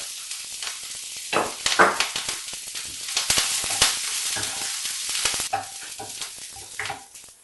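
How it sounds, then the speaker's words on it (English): Chopped kale sautéing in hot oil in a home kitchen, a steady sizzle and crackle with scattered stirring scrapes and spoon clinks, close and moderately loud, with no talking. "Now add the chopped kale and saute until tender"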